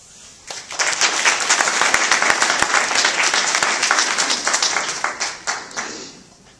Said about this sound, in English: Everyone, please clap for Mr. Nicholas Frank.